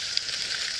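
A quiet continuous crackling sizzle comes from butter and potato sealed in aluminum foil over a charcoal-fed Firebox camp stove outdoors, faint and even with one small pop, no talking.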